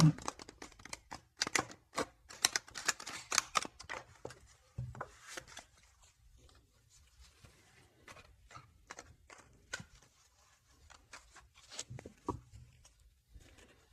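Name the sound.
shuffling tarot cards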